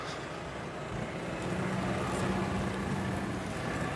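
A tractor ploughing a field at a ploughing contest in Lozère, France, in August; a steady engine drone at moderate distance that swells slightly partway through, with no talk.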